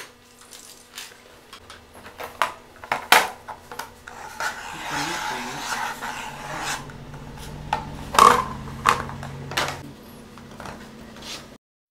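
Sheet material is cut by hand to shape a round fruit bowl, heard as irregular rasping, scraping strokes with occasional sharp clicks and knocks, close and moderately loud.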